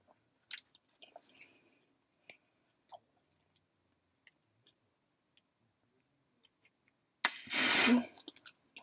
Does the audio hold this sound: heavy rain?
no